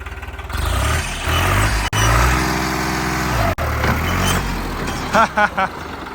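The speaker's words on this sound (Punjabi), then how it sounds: "ਚੌਥੇ ਗੇਅਰ 'ਮਾ ਪੂਰੀ ਪੇਕਾ ਫੜਦਾ ਬਾਈ ਟਰੈਕਟਰ ਦਾ" A heavy diesel engine of a New Holland 3630 tractor drones steadily under load in fourth gear, rising and holding its pitch, with brief cutouts and a few sharp clanks near the end.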